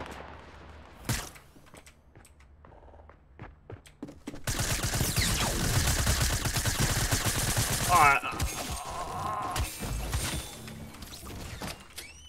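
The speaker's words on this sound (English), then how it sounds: "I'm gonna die from a pump shotgun." Fortnite battle with pump shotgun blasts and other gunfire: a few sharp isolated shots and mechanical clicks, then a dense, loud burst of rapid firing and clatter, with faint talk underneath.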